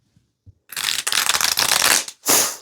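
A deck of cards shuffled by hand during a tarot-style reading: a couple of faint taps, then a dense riffling burst of about a second and a half, a brief pause and a final short riffle, close and clear.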